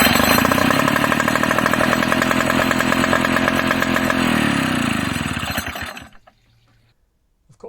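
A small Suzuki GT2 outboard petrol engine runs at a steady, loud, buzzing two-stroke rattle for about six seconds, then shuts off and fades into near silence.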